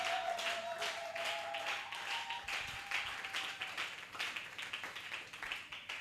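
A church congregation at a Tuesday worship service claps together in a steady, rhythmic beat, moderately loud and continuous, with a faint sustained tone under the clapping.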